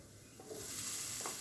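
Tomato drops into a pan of frying green pea curry, setting off a faint sizzle with a couple of soft stirring scrapes over about a second and a half.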